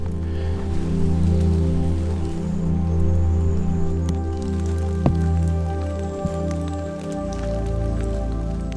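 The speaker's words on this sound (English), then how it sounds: "Instead of slowing down, the rain actually increased some more." Heavy rain on a hiking trail on the island of Madeira, steady and close with scattered drips and splashes over a continuous low hum, and no talk.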